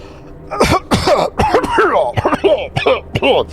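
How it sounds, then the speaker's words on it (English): A voice performs a string of close, harsh coughs and throat-clearing rasps in an uneven rhythm, broken by short pauses, as if acting out a character's fit of coughing. "coughing, that means you're breathing."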